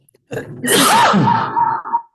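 A single sharp human sneeze, loud and close, with a quick intake of breath before the burst, in an otherwise quiet room.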